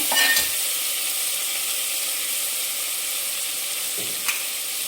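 Biryani masala with Kashmiri chilli powder and salt sizzles steadily on a low flame, with a couple of scraping stirs near the start and end.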